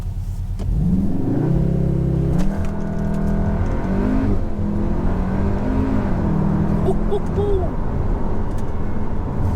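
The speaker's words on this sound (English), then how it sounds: "Brutal acceleration, brutal." A 2022 Cupra Formentor launches hard under launch control, its engine revving up through rising gear pulls with sharp shift breaks, loud and close, with a voice briefly heard over the roar.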